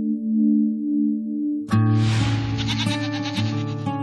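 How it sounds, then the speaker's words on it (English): A goat that has just given birth to kids bleats loudly and close, a wavering, strongly voiced cry that starts abruptly partway through and continues to the end over a low steady background hum. "It's been 2 months since Dr. Berger's visit with Sarah's goat, Shy, and the babies have finally arrived"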